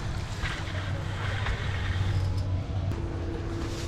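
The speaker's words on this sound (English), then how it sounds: "this is the bridge and all the vehicles coming in from Diamond" Vehicles crossing a road bridge on the route in from Diamond, heard as a steady, loud rumble and roar of traffic with a low engine drone throughout and a tonal hum rising near the end, blended with wind.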